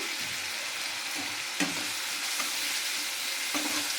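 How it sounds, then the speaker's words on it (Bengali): Ginger paste, salt and chopped tomato fry in a pan for vegetable khichuri, a soft continuous sizzle broken by a few scraping stirs, moderately quiet with no speech. "আদা, নুন আর টমেটোটাকে ভালো করে একটুখানি কষিয়ে নেবো"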